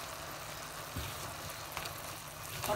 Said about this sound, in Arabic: Là je vais rajouter une moitié de cuillère à soupe de graines de moutarde